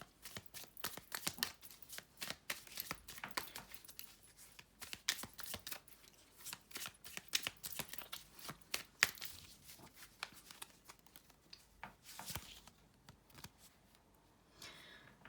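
Tarot cards being shuffled and drawn, a dense run of quick crisp riffling and flicking card sounds close up, with a rustle of cards toward the end.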